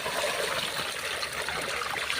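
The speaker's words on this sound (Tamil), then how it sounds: "இந்த எண்ணெய் ஊற்றிக்கிறேன். நல்லெண்ணெய்" Sesame oil poured into a cooking pan, a close continuous trickling pour with no break for the whole short stretch.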